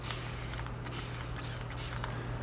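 Vintage Photo Distress Spray misted onto 3x5 index card tags, heard as several close, loud hissing bursts separated by brief pauses over a steady low hum.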